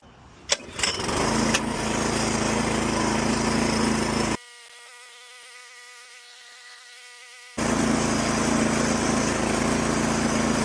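A small lawn mower engine with a new carburetor sputters to life and runs with a loud, high whine, cuts to a quieter drone, then roars again.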